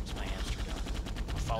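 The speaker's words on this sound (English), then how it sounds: "The guards are shooting at me." Video game guards firing guns in rapid bursts, a dense stream of close, loud gunshots running through the whole moment with a voice speaking over it.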